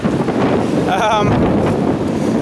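Strong wind buffets the microphone in a constant loud rumble, with a brief voice in the middle partly buried under the gusts.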